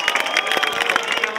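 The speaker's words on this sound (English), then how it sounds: "Everyone's clapping" Crowd clapping at a funfair, a close, busy patter of many hands in steady overlapping claps, fairly loud throughout the short stretch.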